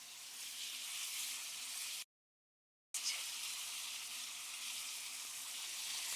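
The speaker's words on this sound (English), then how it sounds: "That's just the liquor burning off." Dry vermouth burns off in a hot pan with 'nduja for shrimp scampi, giving a steady, loud broadband sizzle. The sizzle cuts out briefly near the middle, then resumes at the same level.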